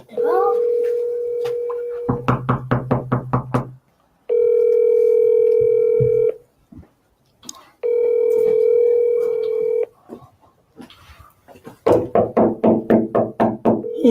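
A telephone call rings out unanswered, its steady ringback tone sounding in long repeated bursts, while heavy pounding on a door booms loudly before, between and after the rings.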